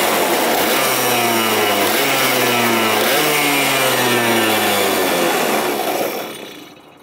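A Vortex Mini Rok go-kart engine, choked for starting, fires up close and loud, its revs climbing in steady stepped surges before dropping away at the end.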